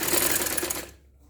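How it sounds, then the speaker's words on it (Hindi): A sewing machine stitches a kameez up to the neckline, a rapid close mechanical whir that runs for under a second and then stops abruptly. "ये पूरी गले तक हमें सिलाई करनी है।"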